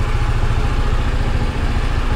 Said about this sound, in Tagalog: Pinapainit po natin yung makina.